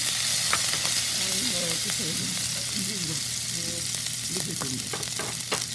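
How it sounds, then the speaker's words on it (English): Green chili frying in a pan for sabudana khichdi, a steady crackling sizzle with occasional pops and stirring scrapes, while a voice talks faintly underneath. "She's adding green chili."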